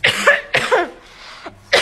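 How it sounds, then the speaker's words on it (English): Three harsh, close coughs in quick succession, each a sharp burst, with a short pause before the last. "why you coughing"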